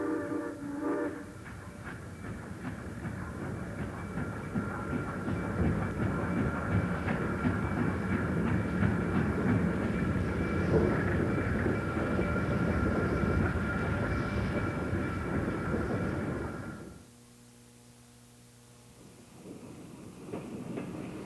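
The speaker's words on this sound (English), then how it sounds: "At West Chazy, a Class P1 Pacific number 651 headed local slows" Delaware & Hudson Class P1 Pacific steam locomotive number 651 hauls a local train at West Chazy, a loud, steady rumble and clatter with tonal whistle-like notes that fades abruptly near the end as it slows, leaving quieter low tones.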